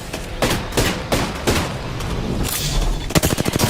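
Rapid bursts of automatic gunfire in Apex Legends, a close, loud exchange of shots with a denser volley near the end.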